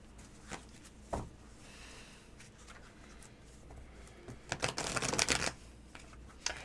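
An English Magic Tarot deck shuffled by hand, quiet papery riffles and slaps in short bursts with a louder flurry of card clatter near the end, close and alone.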